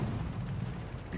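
A naval gun on the T-61 destroyer firing during a warship battle game, one deep rumbling boom sustained through the short moment, loud and low with a muffled roar.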